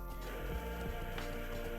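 A horse neighs in The Lord of the Rings Online, with whinnying sounds and soft hoof clip-clops over a dense, steady game soundtrack throughout the short stretch.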